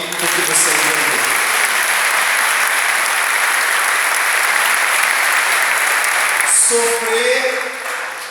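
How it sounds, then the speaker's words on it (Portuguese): A church audience at a Brazilian Catholic group's anniversary gathering claps loudly and steadily for several seconds, then the applause fades as a voice begins speaking. "Pode aplaudir porque você entendeu."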